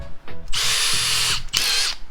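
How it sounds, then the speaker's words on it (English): A power drill whines through two bursts while drilling a hole in a boat, a longer one followed by a short one, loud and close, with brief gaps between. "I'm going to drill the hole there."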